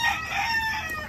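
A rooster crows once, a close, clear drawn-out call at a fighting-cock breeding yard in the Dominican Republic, standing alone without talk.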